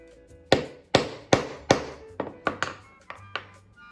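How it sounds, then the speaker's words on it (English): A hammer drives metal eyelets down onto homemade roller-skate toe guards, with about nine sharp, close thunks that come steadily at first and then quicker and lighter, each with a short ringing decay. "you're supposed to hammer it down, and it's supposed to smush it"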